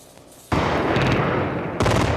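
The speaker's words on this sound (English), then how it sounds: "Shortly before 9 p.m. Baghdad time, Iraq's air defenses started firing into the sky." Iraqi air defenses firing into the night sky over Baghdad at the opening of the Iraq War: sustained, dense rattling anti-aircraft gunfire that bursts in suddenly, rolls on loudly, then surges again.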